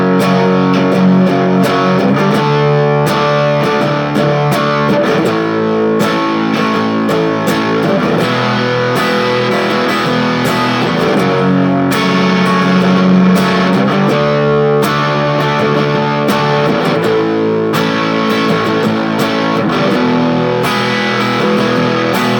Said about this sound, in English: End with a chord like that, and then kick back on your distortion.